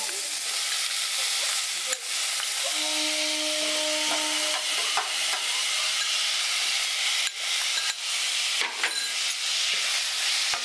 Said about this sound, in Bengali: এবার সমস্ত মশলা টমেটো সব একসঙ্গে ভালো করে মিশিয়ে নিচ্ছি।